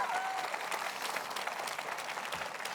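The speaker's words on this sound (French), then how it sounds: "vous devrez applaudir" Steady applause from a church congregation fills the space, dense and continuous from start to finish, with a brief voice barely rising above the clapping near the beginning.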